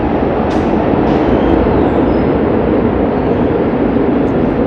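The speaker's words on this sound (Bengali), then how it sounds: "এই মাত্র এই ট্রেনটা চলে গেল" A Milan metro train pulls away from the platform at the station, a loud, steady rumble of wheels and motor filling the whole stretch with little change, close by, with no talking.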